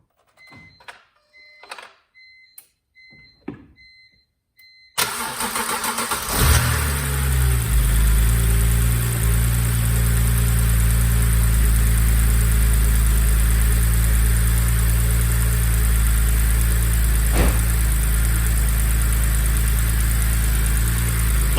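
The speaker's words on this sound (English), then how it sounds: "then I will start the engine" A BMW N52 inline-six cranks briefly and catches, then settles into a steady, loud idle with an even drone and faint ticking from the valvetrain; before the start come a few isolated clicks and knocks.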